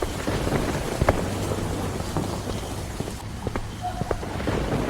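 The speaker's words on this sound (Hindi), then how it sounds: "बारिश काफी तेज पड़ रही थी और आसमान में काले बादलों के साथ तेज तेज बिजली कड़क रही थी" Heavy rain pours steadily with occasional rumbles and cracks of thunder, a stormy night sound effect for a horror story, with a low hum beneath and no talk.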